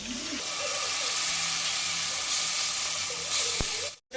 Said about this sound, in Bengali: পেঁয়াজটা লাল লাল করে ভাজা হয়ে গেছে এ সময় আমি টমেটো বাটা দিয়ে দিচ্ছি